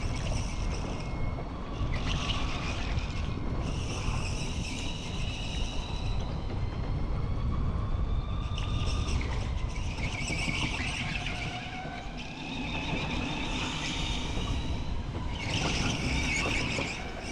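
An electric go-kart runs a flying lap on the indoor track at K1 Speed Toronto, its motor whine rising and falling through corners in repeated bursts, with tire scrub and a steady loud mechanical roar throughout.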